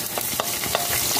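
Chopped garlic and ginger sizzle steadily in a hot pan, with soft scraping stirs breaking through the constant frying hiss at close range.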